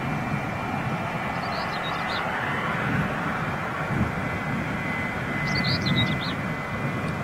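A fixed-wing airliner arriving from John F. Kennedy Airport, its engines roaring as a steady broad drone that stays loud throughout, with faint birdsong chirps above it.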